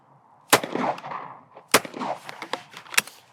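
Shotgun fire at crossing clay targets: three sharp, loud reports spaced about a second apart, each followed by a brief echoing tail, with no talk.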